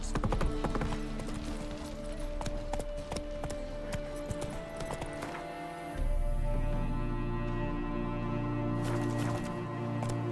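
Geralt's horse Roach trotting in The Witcher 3, with steady rhythmic clip-clop hoofbeats under game music and a low ambient rumble, near and continuous throughout.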